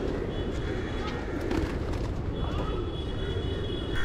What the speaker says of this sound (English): So these are the pigeons. Let's not disturb them, although they will start flying off in every other direction.